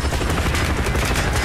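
Machine gun fire in Call of Duty: Black Ops rattles in a loud, continuous rapid stream of shots, dense and close, with no voices over it.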